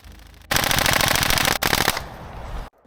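An airsoft gun feeding from an Amarok Mag250 magazine fires a loud, fast full-auto burst of closely spaced shots, breaks off briefly, resumes, then trails off into near silence.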